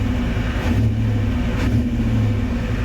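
A 1990 Ford F Super Duty's 7.3 IDI diesel idles steadily with fresh injectors, a smooth, continuous low rumble close by with no voices.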